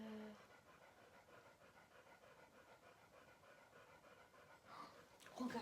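A dog pants quickly and rhythmically close by, a steady breathy huffing that continues for several seconds before a brief louder rustle at the end.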